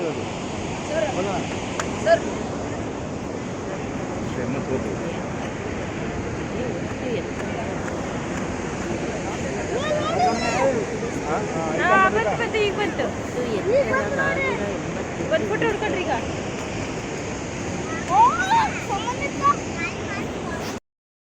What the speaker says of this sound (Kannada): ಪ್ರಪಂಚದ ಪ್ರಸಿದ್ಧ ಜಲಪಾತಗಳಲ್ಲೊಂದು ಭಾರತದ ಎರಡನೆಯ ಅತಿ ಎತ್ತರದ ಜಲಪಾತನೂ ಹೌದು